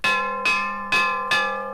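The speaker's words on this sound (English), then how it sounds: "the fire bell on the Boston Meeting House rang out" The fire bell on the Boston Meeting House rings out in loud, steady strokes, four full clangs about half a second apart, each ringing on with a long metallic hum.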